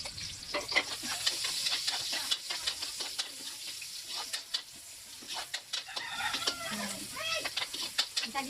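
Chopped onion for chop suey frying in a pan, a busy close sizzle broken by repeated scraping stirs of a utensil, with faint background noise and no talk.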